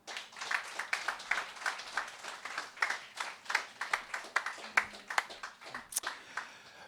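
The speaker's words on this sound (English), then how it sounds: "Applause, please, for Samantha Melia." Audience at a live poetry performance clapping, a steady patter of applause from a modest crowd heard at a distance, fairly quiet and even for several seconds.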